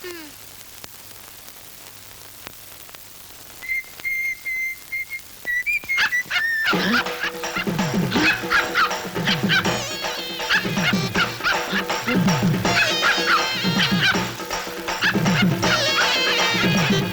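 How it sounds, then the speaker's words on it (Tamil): A dog barks repeatedly, loud and close, in a lively flurry alongside a sharp whistle and other noisy commotion. "இன்னையில இருந்து நாயை அவுத்து விடு."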